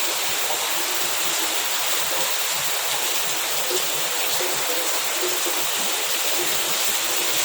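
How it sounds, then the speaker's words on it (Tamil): Heavy rain pours steadily and loudly as a dense, continuous hiss of falling water, alone with no voices. "எப்படி பெய்யுது பாருங்க மழை."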